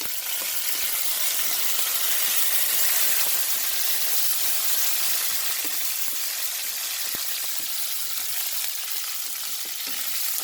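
Small shallots, green chillies and curry leaves sauté in a pan for squid curry, producing a loud, even hissing sizzle that runs unbroken with light stirring clicks and no speech.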